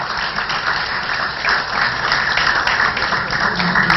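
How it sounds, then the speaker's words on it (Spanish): Seminar attendees give a round of applause to the international panelists, a dense, continuous wash of clapping from a sizeable crowd that holds at a steady level throughout. "Un aplauso para ellos, por favor."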